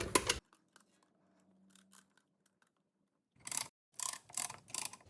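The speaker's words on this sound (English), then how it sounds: "looking at the caliper and this awesome tool, I'm going to add a little bit of pressure to the plates and begin ratcheting" A ratcheting caliper compression tool presses the pads back on a 2018 Chrysler Pacifica front brake, heard as sharp close clicks after a quiet stretch with faint mechanical creaks, then a quick run of louder ratchet clicks.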